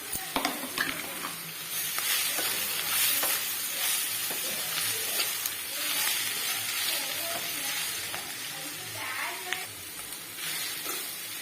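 Moringa greens frying in a pan for a Karnataka-style bassaru, a constant loud sizzle and hiss with scraping stirring strokes repeating throughout.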